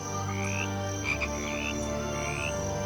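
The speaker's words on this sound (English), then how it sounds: "only the sound of frogs and insects fills the silence the elephants leave behind" Frogs and insects call at night in the African bush, with steady overlapping chirps, trills and croaks, fairly close, and a few brief rising calls standing out above the continuous chorus.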